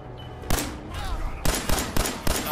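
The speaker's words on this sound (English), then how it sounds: "Who else is shooting?" Gunfire in the video game Fallout 4, a burst of several loud shots in uneven succession over busy game background noise, fairly close.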